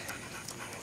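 Alaskan Malamutes pant in quick, breathy puffs during skijoring training outdoors, a brief, close and steady rhythm without talking.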